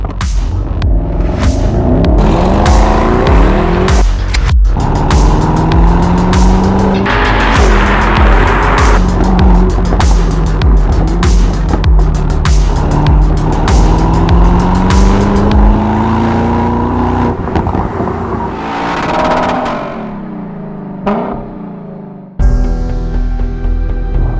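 A 2023 Mercedes-AMG SL 63 roadster drives hard, its engine roaring loud and close with rising and falling revs and gear changes before the sound cuts away near the end.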